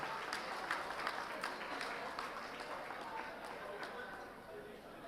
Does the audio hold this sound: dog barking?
no